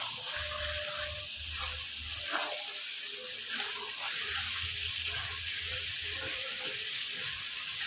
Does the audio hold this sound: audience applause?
no